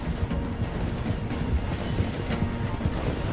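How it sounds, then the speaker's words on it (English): A train rolls along the rails in Red Dead Redemption 2 as it slows through a station, a steady close rumble with faint rhythmic clacking and mechanical rattling throughout. "The train is slowing down to go through the station."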